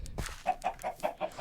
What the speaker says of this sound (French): Allez, venez les petites poupoules.